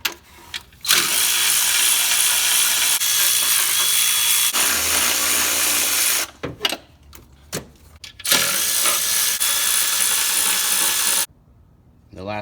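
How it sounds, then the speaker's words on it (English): A tool runs on the 10mm intake manifold bolts of a Nissan Titan during a starter replacement, giving long continuous whirring bursts broken by short pauses and a few clicks. "all we have left is to remove the 10mm bolts that hold on our intake manifold"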